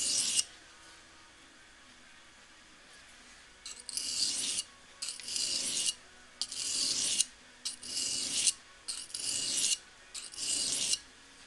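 A knife edge is stroked across a sharpening stone to shape its bevels, giving six or seven rhythmic rasping strokes, close and fairly loud, with short pauses between them after a quiet opening.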